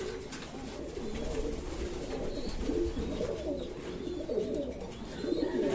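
A small-to-medium Japan line racing pigeon coos in low, rolling, repeated burbles, near and moderately loud over a steady background.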